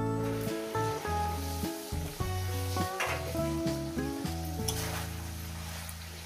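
Fish roe and spices frying in a pan, a dense steady sizzle with stirring scrapes and bumps over a continuous background music bed, no speech.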